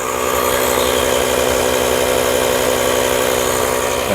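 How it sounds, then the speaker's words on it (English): A Jaguar XF-S engine idles steadily after starting, a loud, even mechanical hum with a constant pitch and no breaks, heard alone without talk. "Okay, so I've just started the engine up."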